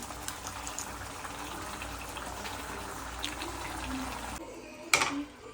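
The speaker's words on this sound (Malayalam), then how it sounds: "നമ്മുടെ പാൻ ഇവിടെ വെച്ചിട്ടുണ്ട് ഇത് ഇതിലേക്ക് ഒഴിച്ചിട്ട് വറുത്താൻ പോവാണ്" Beef liver with curry leaves frying in a pan, a steady close bubbling sizzle that cuts off abruptly near the end, followed by a brief clatter.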